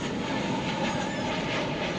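An airliner in Tide Pod livery at DFW Airport makes a continuous dense engine rumble and hiss, loud and steady for the whole moment with no talk.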